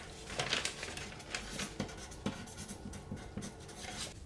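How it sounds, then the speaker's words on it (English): Pen writing on paper at close range in a quiet ASMR setting, soft scratchy strokes in short irregular bursts, with no voice over it. "I'll just write that down."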